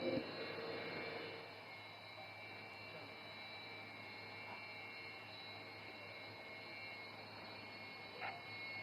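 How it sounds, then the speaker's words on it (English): Rafale or Sukhoi fighter jet spooling to full power for takeoff from an emergency airstrip in Assam; a steady, fairly distant engine roar holds throughout, loudest at the start, with no speech heard. "And notice the aircraft is now opening full power."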